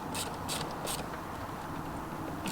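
A 1/4 inch drive ratchet tightens intake manifold nuts on a Vespa LX or S scooter, giving three close, crisp bursts of pawl clicking in quick succession.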